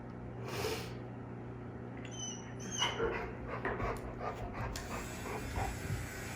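A large dog pants and snorts close by, with rough breathy bursts and sniffing over a steady low background hum.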